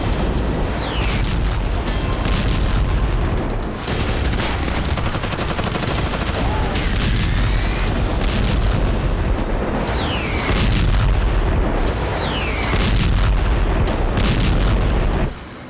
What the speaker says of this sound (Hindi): बेहद ही प्रचंड अंदाज में आईडीएफ खान यूनुस पर गोला बारूद बरसा रही है।